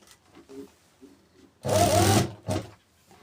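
A sewing machine stitching a gent's suit makes one short, close, dense burst of under a second, then a brief second run, after quiet handling sounds.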